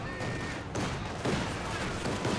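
Infantry gunfire rattles in Company of Heroes 2 as conscripts come under fire, a dense, continuous crackle of shots with no clear pauses.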